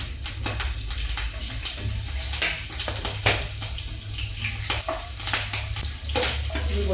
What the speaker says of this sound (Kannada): ಈಗ ಫಸ್ಟು ಹಸಿಮೆಣ್ಸಿನ್ಕಾಯಿ ಹಾಕ್ಕೊತೀನಿ.